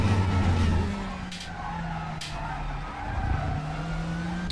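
Race car tires scrubbing in the RaceRoom sim racing game, a rough skidding hiss over the steady engine drone, with tones shifting as the car works through a corner.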